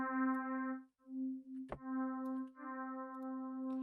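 A synthesized pluck bell patch built in the Harmor synth rings as sustained harmonic tones broken by short gaps, with one sharp percussive click midway, clean and alone without talk.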